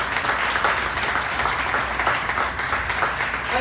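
An audience at an event with Brampton's mayor applauds four city councillors, giving a loud, continuous wash of clapping from a sizable crowd that holds steady throughout without letting up.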